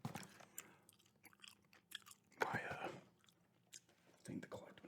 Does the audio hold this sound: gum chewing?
yes